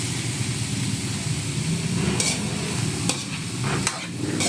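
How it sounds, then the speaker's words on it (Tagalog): A spoon stirs sautéed bitter melon (ampalaya) in a frying pan, with a steady close sizzle and a few sharp scraping clicks against the pan. No one speaks. "Tapos haluin ulit, halo-halo."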